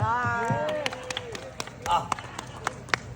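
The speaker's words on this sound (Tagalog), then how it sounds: "palakpak kayo dyan" A small audience claps in scattered, uneven bursts after a voice speaks over them, with sharp single claps spread across the rest of the moment.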